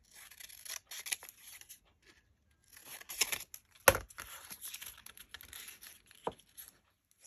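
Scissors cutting out pieces of decorative craft paper, heard as scattered close snips and crinkly paper rustles in short bursts with quiet gaps, including one sharper louder snip midway.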